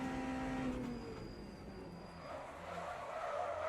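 A hypercar spins and skids in a racing video game, with a sustained tire squeal and engine drone that sweeps up and fades over a few seconds, fairly loud and steady with no talking.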